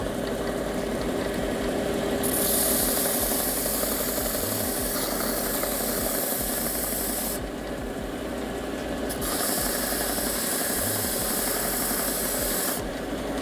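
A power sander works a guitar neck flat, giving a steady close whirring rasp that rises and drops in brightness as it moves back and forth, running continuously without talk.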